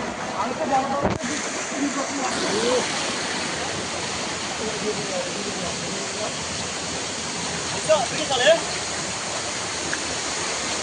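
Steady broadband rush of the hidden waterfall at Napittachhara, Sitakunda, Chattogram, continuous and close, with a few brief louder splashes or voice bursts near the end.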